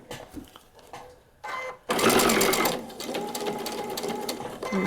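A sewing machine stitches a seam on a paper-pieced quilt block, first quiet and faint, then whirring loudly in a steady run for the last few seconds.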